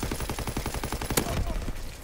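SMG gunfire in Call of Duty WW2, a rapid rhythmic burst of shots with a sharp crack near the middle, steady and loud throughout the short stretch.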